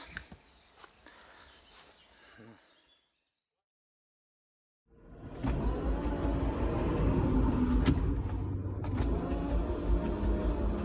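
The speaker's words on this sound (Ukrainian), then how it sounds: "Так звучить наш автомобіль після того, як він поїздив по Харківській області" After quiet and a short silence, a war-worn car used in Kharkiv Oblast grinds and rattles loudly nearby, its mechanical noise continuing to the end.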